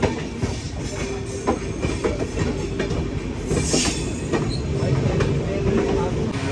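A passenger train bound for Delhi runs along the rails in Punjab, giving a continuous loud rumble with rhythmic wheel clacks and faint squeals heard from on board.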